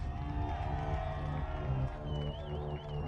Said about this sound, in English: one more round of applause for Leonardo Scorpioni.